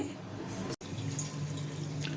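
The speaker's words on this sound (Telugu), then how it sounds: "ఈ మునిగేదాకా నీళ్లు పోసుకొని పక్కన పెట్టుకుంటే" Water poured over wheat rava to soak it for kichidi, a continuous close trickling pour broken by one brief gap, then resuming steadily.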